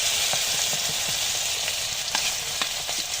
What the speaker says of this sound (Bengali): এখানে ফোড়নে দিয়ে দিচ্ছি শুকনো লঙ্কা, তেজপাতা, জিরা। সুন্দর করে ভেজে নিলাম।